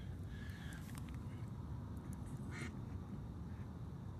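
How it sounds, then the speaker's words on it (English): Ducks quack a few times near a wharf at dawn, short nasal calls early on and again midway, faint under steady wind and water noise. "Here are the ducks."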